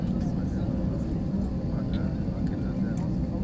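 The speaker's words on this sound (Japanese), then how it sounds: "今一気に離陸していってますけども" Low-cost airliner rolling down the runway for takeoff on a transcontinental flight from Chile, a steady, loud engine roar and cabin rumble filling the cabin throughout, with faint chatter underneath.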